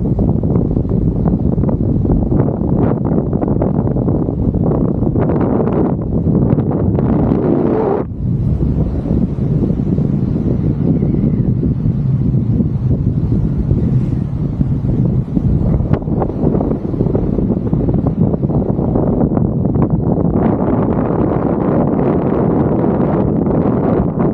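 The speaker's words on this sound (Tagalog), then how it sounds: "Sobrang lakas lang ng hangin guys." Strong wind buffets the microphone in a constant, heavy roar, with gusts surging and easing throughout and no voices.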